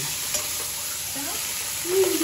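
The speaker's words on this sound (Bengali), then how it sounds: "এবার একটু হালকা চিংড়িতে কষিয়ে নিই" Chillies and shrimp frying in a pan over a village cooking fire, a steady sizzle with a few brief stirring scrapes and a short louder clatter near the end.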